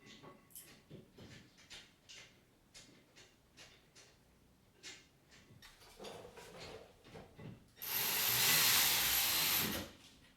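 Milwaukee power tool driving the bolts of a rear brake bracket on a Hyundai Santa Fe, heard as a loud sustained whir of about two seconds near the end, after scattered clanks and handling noises in a garage.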